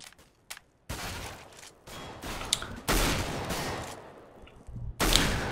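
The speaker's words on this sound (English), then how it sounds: "he just shot that guy in the chest" Gunfire in the video game CS:GO crackles in several sharp bursts and single shots, loud and close, separated by brief gaps, with no talk over them.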